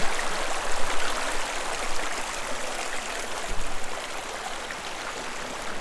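Water flows steadily along a channel through a small town, with a continuous rushing and trickling wash and occasional gurgles.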